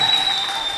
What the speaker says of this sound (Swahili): Piga makofi na vigelegele kwa Yesu kama unabarikiwa.